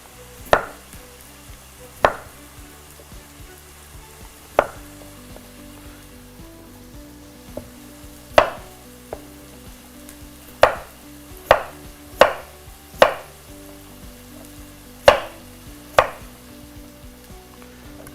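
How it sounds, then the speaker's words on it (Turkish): Knife chopping potatoes on a board in about a dozen separate sharp strikes spaced a second or two apart, over a low steady sizzle of oil frying in a pan nearby, no talk. "Doğramaya devam ediyorum."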